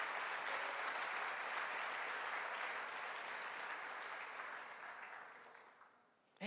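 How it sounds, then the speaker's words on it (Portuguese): A church congregation applauds together in sustained, dense clapping that fills the room at steady loudness, then thins and fades toward the end. "Pode aplaudir ao Senhor."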